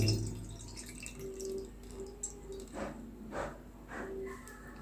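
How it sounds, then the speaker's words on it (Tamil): Curry-leaf-infused water being strained in a home kitchen, a few close trickles and drips of liquid falling through in short bursts over low background hum. "நம்ம இதை வந்து வடிகட்டி தண்ணியை தனியாக எடுத்துக்க போகிறோம்"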